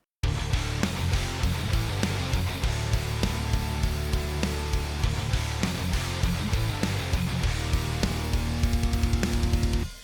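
A heavily distorted electric guitar chugs through a dense, driving metal riff, an offset riff with rhythmic palm-muted hits, loud and continuous, no vocals.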